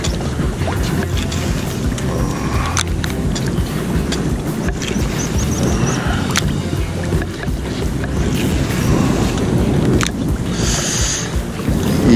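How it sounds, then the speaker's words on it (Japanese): Gusting wind buffets a fishing boat on Lake Kitaura's main basin, roaring steadily across the microphone for the whole stretch, with water lapping against the hull and no talking. "いい感じにね風がやっと出てきてくれたんで"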